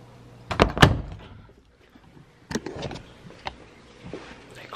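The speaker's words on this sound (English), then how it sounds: "They closed the door on me." A car door shuts with a loud double thunk, followed after a pause by further clunks and rattles of the door and latch, close by with some background noise.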